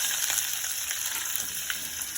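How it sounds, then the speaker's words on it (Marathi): Oil sizzles and crackles steadily as onion fries with garlic in a hot pan, a constant bright frying hiss with no voices. "आता आपण कांदा ॲड करूया"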